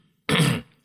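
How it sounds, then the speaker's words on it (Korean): A single gruff throat clearing with a short cough, loud and close, in a quiet Korean folktale narration, followed by a brief faint after-sound. "하고 헛기침 소리가 들렸다."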